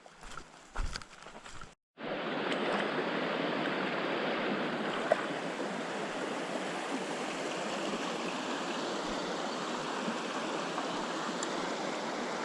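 A creek flows steadily after a short burst of handling noise. The broadband rush of water is continuous and moderately close, with no voices.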